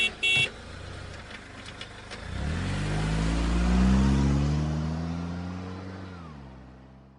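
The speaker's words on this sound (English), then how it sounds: "So this is a vehicle." A car engine revs up and pulls past, its pitch climbing and holding strong before fading slightly, preceded by a brief sharp tone; loud and close with no voices.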